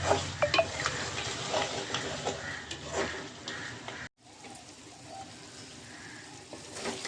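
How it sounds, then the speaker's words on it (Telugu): Ginger-garlic paste sizzles in a pan for Andhra-style chicken curry while a utensil stirs and scrapes close by; after a brief cut the frying continues more quietly. "అల్లం వెల్లిగడ్డ వేస్తాం కదా, ఒకసారి కలుపుకుందాం"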